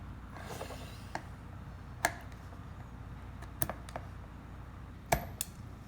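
Small metallic clicks and snaps come from removing an E-clip from a Robart Robostrut, several sharp isolated ticks scattered over quiet handling noise, close and faint.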